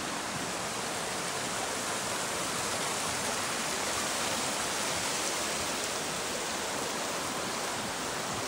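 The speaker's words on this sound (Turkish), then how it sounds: "Şelale göründü. Akyamaç Şelalesi." Akyamaç Waterfall in a forest nature park in Rize's Pazar and Hemşin area roars as steady broadband rushing water, loud and unbroken throughout, with no voices.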